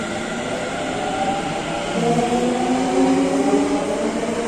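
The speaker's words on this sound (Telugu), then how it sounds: "డ్రైవర్తో పని లేకుండా వెళ్తుంది ట్రైన్ వచ్చేసరికి." India's first driverless metro train rolls along with a continuous loud rumble, rising slightly midway as motor whine tones climb, heard from inside with no talking.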